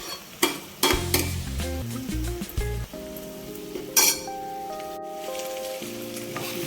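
Stirring and sizzling in a pot as a ground paste goes into simmering drumstick leaf pulusu, with clinks of a utensil against the vessel; close and fairly loud, no talking, while steady music plays underneath.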